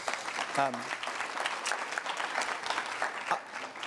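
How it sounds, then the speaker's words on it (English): Audience applause at a community forum with a state senator and assemblymember, a steady patter of many hands clapping at moderate, somewhat distant level, with some voices mixed in. "let's give them a round of applause, please."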